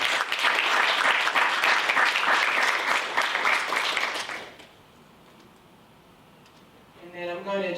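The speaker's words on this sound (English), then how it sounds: "this is definitely worthy of a round of applause" A meeting room audience gives a round of applause, dense clapping for about four seconds that fades to near silence before a voice begins speaking.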